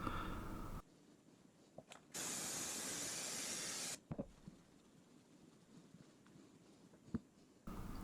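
Cleaner sprayed onto a foam air filter from a Yamaha WR250R gives a close, loud steady hiss lasting about two seconds, framed by quieter handling clicks and bumps, with another brief spray burst at the start and end.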